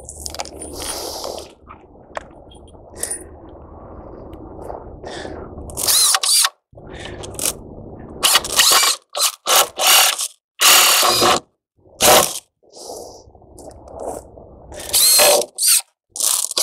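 A power drill drives screws through 2x12 lumber into ties for concrete formwork, in loud, whirring bursts of several seconds separated by short pauses, with quieter handling noises between and no talking.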